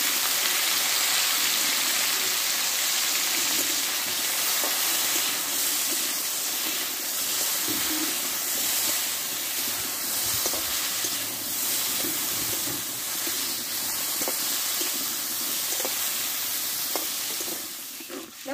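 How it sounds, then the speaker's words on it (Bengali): Okra sautéing in white oil in a kadai gives a steady, loud sizzle with frequent small crackles and occasional stirring scrapes throughout, with no talking. "অল্প করে দিয়ে আমি ঢেঁড়সটা ভালোভাবে একটু কষে নেব।"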